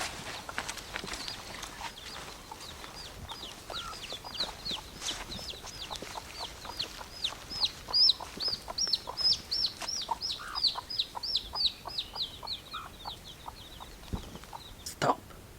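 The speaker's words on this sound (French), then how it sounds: "Des poules et des poussins." Hens and chicks cluck along a forest trail near Vaipahi on Tahiti, with rapid high peeping from the chicks, soft hen clucks and a sharp click near the end, quiet and close.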